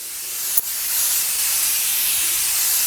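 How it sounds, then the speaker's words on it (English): A short, sharp spritz from a facial spray bottle, a single quick burst of fine hiss, followed by a steady airy background hiss. "I'm just going to spray my face, give it a spritz."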